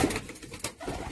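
Pigeons coo in a loft, soft throaty murmurs repeating close by over a faint background hiss, with no talking.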